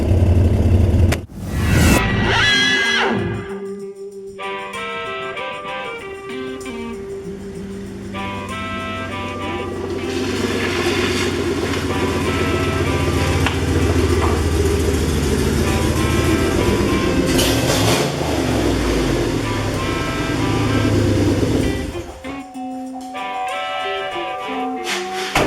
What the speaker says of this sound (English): Obviously an exhaust leak, but from where?